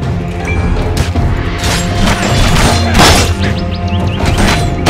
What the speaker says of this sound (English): the sound of an enemy axe striking your shield and sending them crashing into a heap is excellent